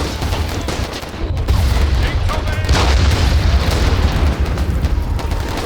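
Artillery strikes in a World War I style war video game, with continuous booming explosions and rumbling barrages rolling loudly and densely throughout, a sharp surge about a second and a half in.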